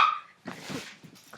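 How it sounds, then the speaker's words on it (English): A dog barks indoors, a short sharp bark followed by a couple of softer yips and whimpers, fairly close and alone. "I apologize for the barking."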